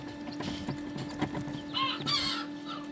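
Newly hatched pheasant-chicken hybrid chicks, some striped, and tiny serama chicks peep and cheep in short, bright bursts close by, with faint mechanical clicks in the background.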